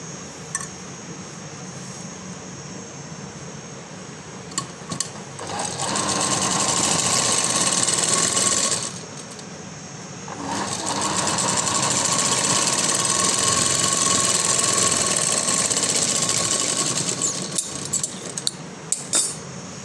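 A sewing machine stitching a floral frock hums steadily in two long runs with a short pause between them. Soft clicks and fabric handling are heard before and after.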